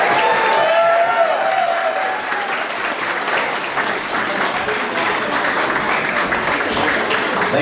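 A wedding reception crowd applauds the best man after his speech, a dense, steady round of clapping filling the room for the whole stretch, with a few voices faintly audible underneath.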